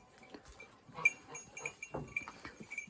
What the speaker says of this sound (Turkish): Şu cüce keçim.